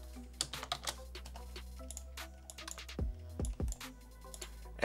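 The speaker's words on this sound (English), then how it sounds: "you're just going to type in something" Keys clatter on a computer keyboard in a quick, uneven run of close, light taps, with a couple of short pauses and no voices.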